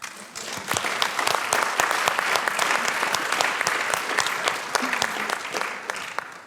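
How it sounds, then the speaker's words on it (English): Audience applause at a European health and democracy conference, sustained crowd clapping with distinct sharp individual claps standing out, steady and fairly close throughout. "Let's clap."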